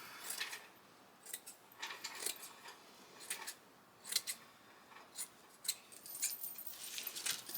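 Scissors snip through paper scraps for a snippet roll, a quiet, close series of irregular crisp cuts with brief pauses between them.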